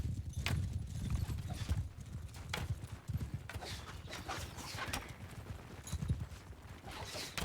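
Horse hooves gallop in rapid clip-clop rhythm on a Mount & Blade II: Bannerlord battlefield, loud and close, with dense low thuds and scattered sharper hits throughout.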